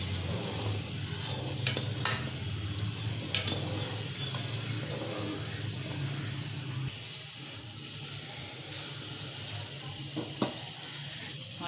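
Khoya gulab jamun frying in a pan, giving a low, steady bubbling sizzle with a few sharp clinks and taps, which grows quieter partway through.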